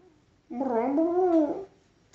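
A single drawn-out cat meow, wavering in pitch over about a second, close and fairly loud against a quiet room.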